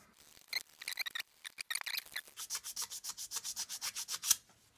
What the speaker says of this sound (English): Oh, sandpaper.